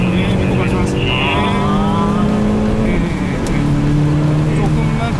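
A Hyundai Veloster N accelerating hard around the Inje Speedium circuit, its engine note climbing steadily with a drop at a gear change and then rising again. The sound is loud and close from inside the car, and people talk over it.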